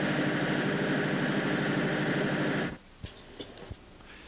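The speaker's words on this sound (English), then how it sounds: "the generator power plant, a 460 horsepower NK series Cummins diesel engine" A 460 hp Cummins NK series diesel generator engine aboard a ship runs with a loud, steady broadband roar, then cuts off abruptly, leaving a few faint knocks and clicks in the quieter engine room.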